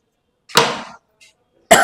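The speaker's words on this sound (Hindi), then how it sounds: "ओहो खांसी हो गई भाई" Two harsh coughs, one full and one cut off at the end, with a faint throat sound between them in a quiet room.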